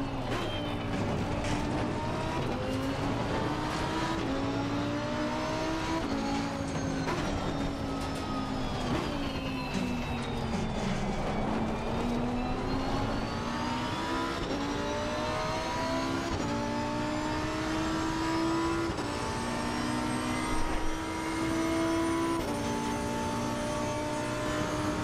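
Porsche race car engines at Bathurst in a sim racing game, a loud continuous engine howl rising and falling with gear changes and throttle through the whole stretch, with no talk.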